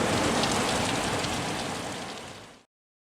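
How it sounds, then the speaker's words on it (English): Heavy rain falls hard and steadily outside a house being rebuilt, a loud dense hiss that fades and cuts off near the end. "Heavy rain."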